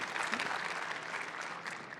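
Conference keynote audience breaking into applause and cheering, a dense, even wash of clapping from a large crowd held at a moderate, somewhat distant level throughout.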